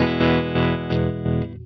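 An electric guitar chord runs through a Coppersound Loma Prieta tremolo pedal, pulsing loudly in four or five even swells with a wave shape between square and sine before fading out.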